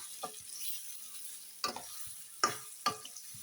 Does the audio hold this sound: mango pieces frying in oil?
yes